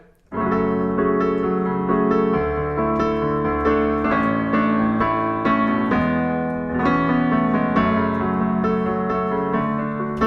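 A solo piano plays a steady, flowing melody with chords, moderately loud and unaccompanied from start to finish.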